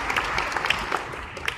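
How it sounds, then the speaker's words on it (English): A conference audience breaks into brief applause, a dense patter of many hands clapping in a large room, moderately quiet and steady for a second or two. "So can we just applaud Houston?"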